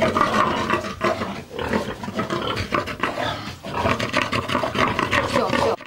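A meat-breed boar on a family smallholding grunts and snorts loudly and continuously up close, rough guttural noises rising and falling in dense bursts that fill the whole stretch.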